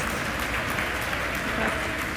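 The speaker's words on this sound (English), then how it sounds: "I have a feeling the crowd's about to go wild here" A crowd watching a Starship Super Heavy booster landing roars with steady, dense cheering and applause, a continuous wash of noise without pauses.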